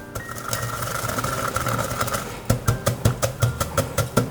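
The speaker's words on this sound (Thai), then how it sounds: "เสร็จแล้วเราก็ไปตักใส่ครกแล้วก็โขลกเลยครับ" A pestle pounds roasted ingredients in a mortar in a Thai kitchen. After a low, steady hum, about eight firm, evenly spaced thuds ring out close by, with no talk over them.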